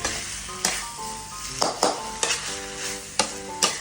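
Pork cartilage stir-fried with southern Thai curry paste in a pan: a steady sizzle under repeated loud scrapes and clanks of the spatula against the pan, coming every half second or so, close up and with no talking.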